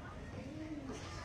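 A pair of Kalanka pigeons gives a single soft, low coo, faint and brief against a quiet background.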